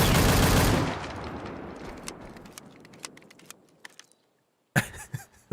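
An N4 gun in a video game fires a loud, rapid automatic burst that fades out, followed by scattered clicks and taps, then a brief sharper cluster of shots near the end.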